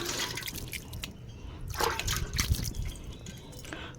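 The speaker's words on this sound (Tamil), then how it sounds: "முதல்ல வந்துட்டு இந்த மண்ணுக்கு கொஞ்சம் நம்ம தண்ணியை தெளிச்சுக்கலாம்." Water is sprinkled onto potting soil in a terrace garden, a quiet patter of drips and trickles that comes and goes in small bursts, close by, with no speech.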